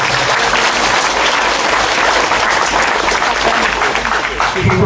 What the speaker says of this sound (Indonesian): Kita tepuk tangan untuk menambahkan